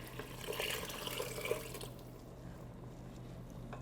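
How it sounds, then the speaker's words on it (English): Warm water pours into risotto rice in a kitchen pot, a soft, close splashing and trickling for about two seconds that then fades to a quiet simmer-like hush, with no talking. "So let's add the water."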